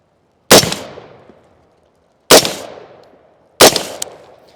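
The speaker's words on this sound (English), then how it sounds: "The right I'm gonna shoot with the rifle, and the left I'm gonna shoot with the pistol." Three sharp, loud gunshots at a shooting range from a rifle and a pistol, spaced about two seconds apart, each a hard crack followed by a quickly fading ring-out, with no talking.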